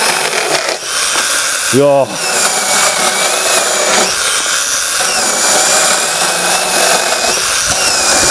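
A cordless 4-inch mini chainsaw cuts through wood with a loud, steady motor whine and the rasp of the chain biting in. A short voiced exclamation breaks in partway through.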